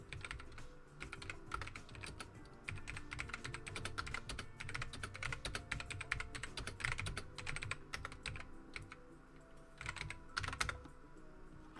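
A computer keyboard is typed on in an irregular, fast patter of soft key clicks for about twelve seconds, close but quiet, while a command is entered, with no talking.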